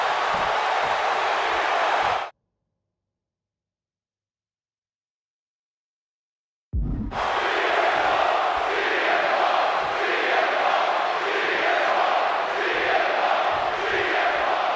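Wrestling arena crowd from the video game WWE 2K26, a loud sustained roar of cheering fans that cuts out briefly into silence, then returns just as full and dense.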